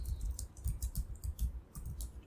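Typing on a computer keyboard during a desktop software task produces a steady run of soft, close key clicks at an even pace, alone without speech.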